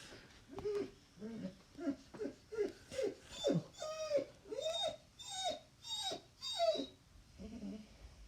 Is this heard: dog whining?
yes